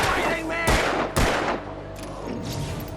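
Gunshots in the video game Alan Wake, two loud, sharp close blasts about half a second apart followed by fainter trailing shots, with a voice talking underneath.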